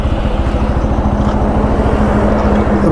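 A Bajaj Pulsar N250 motorcycle engine thrums in a fast, pulsing rhythm up close while braking on a road test, with constant wind and engine noise throughout.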